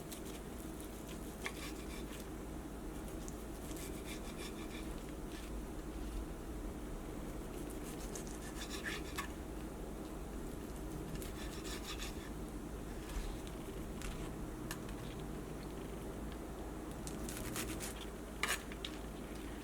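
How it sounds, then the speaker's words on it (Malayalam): Chicken being cut into small pieces for fried rice, a steady rubbing and rasping of knife on a board with scattered clicks and taps, close and continuous, with no talk. "ഈ ചിക്കൻ നമുക്ക് കുറച്ച് ചെറിയ പീസായിട്ടൊന്ന് കട്ട് ചെയ്തിട്ട് എടുക്കാം."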